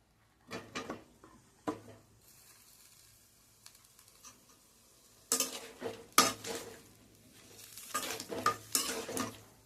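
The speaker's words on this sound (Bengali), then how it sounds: "এবার আমি এটাকে ভালো করে নাড়াচাড়া করে নিচ্ছি" Ridge gourd with potato cooks in a pan, with a faint sizzle underneath and bursts of close scraping and clattering as a spatula stirs it, which grow busier toward the end.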